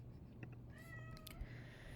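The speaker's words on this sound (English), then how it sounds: "sorry, that's my cat" A domestic cat meows indoors, one or two short, fairly faint meows over a quiet room hum, with no talking.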